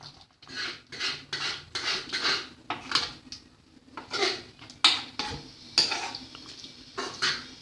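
Soy sauce and vinegar being mixed into soup in a pot, heard as a steady run of scraping, clinking utensil strokes against the pot in a quick uneven rhythm, close and moderately loud with no talking.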